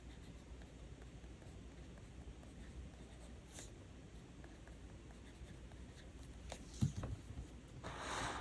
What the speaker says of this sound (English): And then I wanted to do some writing.